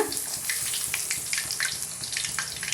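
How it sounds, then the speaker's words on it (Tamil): Flattened rice (aval) frying in hot oil, a steady close hiss with small crackling pops throughout, no talking. "கொஞ்சம் கொஞ்சமாக நம்ம அவல் எடுத்து இது போல் நல்லா பொரிச்சு எடுத்துக்கலாம்"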